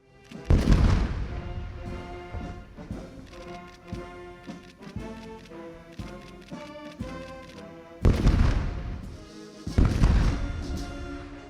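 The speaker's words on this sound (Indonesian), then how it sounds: "Dentuman meriam sebanyak 21 kali turut menandai penghormatan kepada Prabowo." Cannon blasts of a 21-gun salute at a state welcoming ceremony at the Istana Negara palace in Malaysia: loud booming reports at the start and again near the end, with ceremonial band music playing between them.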